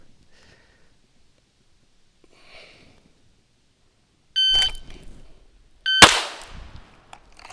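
Two sharp electronic beeps from a shot timer sound during a weapons handling drill, the second followed by a loud, sharp crack with a decaying tail, with faint breathing before.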